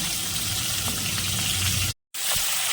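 Prawns frying in hot mustard oil, a steady close sizzle and hiss filling the clip, broken by a brief total dropout near the end before resuming.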